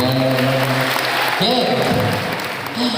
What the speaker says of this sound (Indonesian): Boleh tepuk tangan buat mereka berdua hari ini.